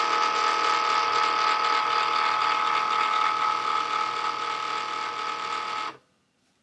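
A Cricut Maker cutting machine powers on and runs with a steady, loud mechanical whir and ratcheting hum for about six seconds, then cuts off abruptly into silence.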